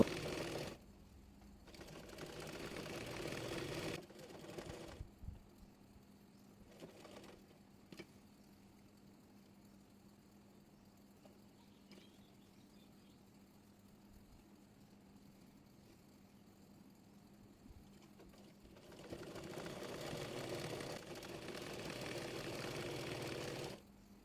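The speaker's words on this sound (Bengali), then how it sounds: "এবার কামিজের ফাড়া মুড়িয়ে সেলাই করে নেব" A sewing machine runs along the folded hem of a kameez, with two steady stretches of stitching at the start and end and a quiet pause in between.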